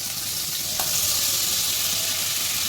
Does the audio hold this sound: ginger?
yes